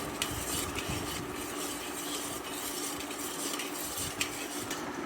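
A spoon stirs Ugadi pachadi in a bowl, mixing the ingredients into jaggery water, with soft steady scraping and faint clinks of cutlery against the bowl, close and quiet throughout.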